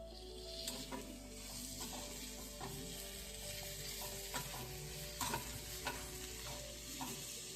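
Dried shrimp (sode) fry in a pan of sautéed masala with a steady close sizzle, and spatula scrapes and clinks strike at irregular intervals throughout.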